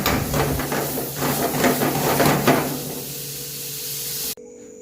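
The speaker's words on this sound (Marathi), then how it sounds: "त्याला चिकन फ्राय बनवायला चालू केला आहे" Loud, steady sizzling and hissing of chicken frying in a hot pan in a restaurant kitchen, which cuts off abruptly near the end, leaving a faint low hum.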